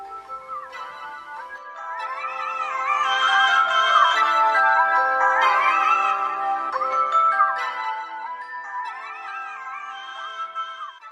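A mobile phone plays a melodic ringtone tune, a bright looping electronic melody that swells in volume and keeps ringing for over ten seconds with no voices over it.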